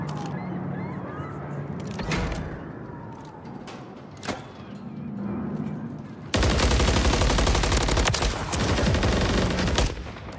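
Gunfire in Modern Warfare 3 ranked play cracks in scattered single shots, then erupts into a loud, sustained burst of rapid automatic fire up close, with game effects underneath.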